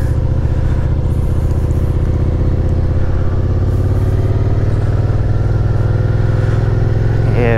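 A Ford Mustang engine revs loud and close, a steady thick rumble that climbs slightly toward the end, with no talk over it.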